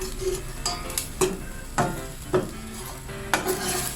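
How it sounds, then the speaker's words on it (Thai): Green curry paste stir-fried in a pan for Thai green chicken curry: a steady low sizzle broken by five or six sharp scrapes and clinks of a spatula against the pan, close and alone. "ผัดให้พริกแกงหอม"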